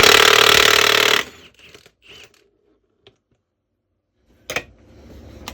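A nut gun impact wrench undoes a gearbox nut, a loud rapid hammering rattle lasting about a second, then quiet clinks and a short second burst, close by in a workshop.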